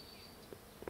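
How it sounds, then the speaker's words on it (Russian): Bees buzzing around blackberry bushes in a garden, a faint, steady insect drone with a couple of brief louder passes near the end. "Вот видите, совсем рядом пчелки"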